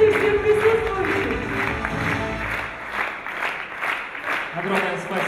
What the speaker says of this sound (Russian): Под аплодисменты всем присутствующим!